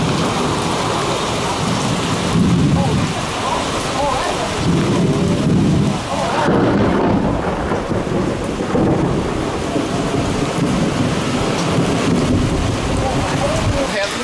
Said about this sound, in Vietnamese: điều kiện sấm sét rất là lớn và mưa và gió giật